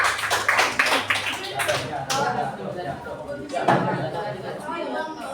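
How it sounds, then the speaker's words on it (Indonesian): A classroom group gets a round of applause, quick bursts of clapping and taps mixed with lively chatter and voices throughout. "Beri tepuk tangan untuk kelompok badan."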